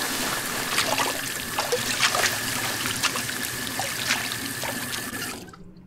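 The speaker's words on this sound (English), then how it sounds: "Ooh, pretty nice water effect." Running water in a laundry room within The Suicide of Rachel Foster, a steady faucet-like trickle and splash heard alone, moderately close, continuing for several seconds before cutting off abruptly.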